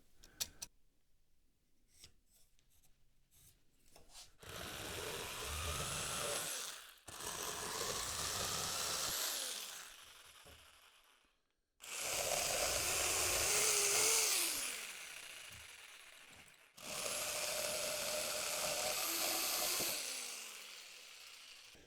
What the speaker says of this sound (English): This jigsaw, it's not very accurate.